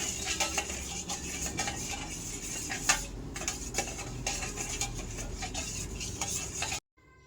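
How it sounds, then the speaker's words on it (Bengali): A spoon scrapes and clinks against a bowl while white oil is mixed into flour for butter naan dough, with steady close-up clatter and a short silence near the end. "এরপর এটাকে ভালো করে মিক্সড করে নেবো"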